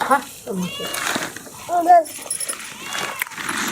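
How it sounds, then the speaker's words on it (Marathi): A house cat meows in short, rising cries while being offered a fried papdi snack at home, its calls mixed in and alternating with a woman's speech close by. "खा हे पापुडी मांजर"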